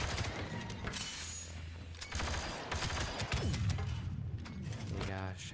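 Turret gunfire in Star Wars Battlefront 2 rattles in dense, continuous bursts among other battle noise, with someone talking over it throughout.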